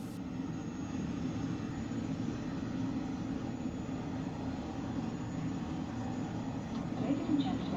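Airliner cruising at flight level 270 in a flight simulator game, a steady, even jet engine drone and airflow roar heard from inside the cabin, constant and unchanging.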